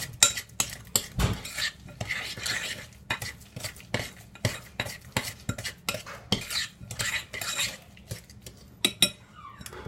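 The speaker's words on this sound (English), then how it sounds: "we mix that very well" Cookie dough for M&M and chocolate chip cookies being stirred and mixed in a bowl, with steady rhythmic scraping and clinking of a utensil against the bowl, close and clear throughout.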